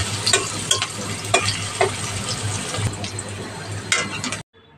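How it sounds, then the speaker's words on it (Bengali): Chopped onions frying in a pan with bay leaf, cloves and cinnamon, a continuous close sizzle broken by repeated stirring scrapes and clinks, ending abruptly in near silence. "পেঁয়াজটাকে সুন্দর করে ভেজে নিতে হবে"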